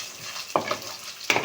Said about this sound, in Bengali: লো ফ্লেমে খুব ভালো করে ভাজবো।